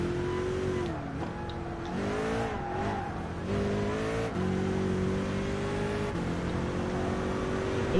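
Race car engine from Gran Turismo Sport driven from the bonnet camera, a steady loud drone rising and falling in pitch through gear changes and throttle shifts, continuous without talk.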